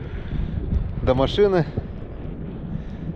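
Wind buffets a microphone outdoors beside a frozen lake on a fishing outing, a low rumbling gusty roar running throughout, with someone speaking briefly over it.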